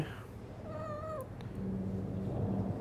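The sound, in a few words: cat meowing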